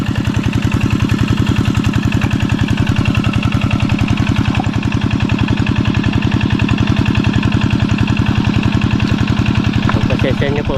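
A noisy boat motor runs close by throughout, a loud, steady, rapid putter that holds an even rhythm without pause.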